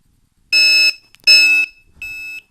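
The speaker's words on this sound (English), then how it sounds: "the alarm should go off. Okay. And it's going to start beeping" Alarm on a LiPo battery discharger beeping in three loud, sustained electronic tones with short gaps, the last one somewhat quieter, with nothing else heard.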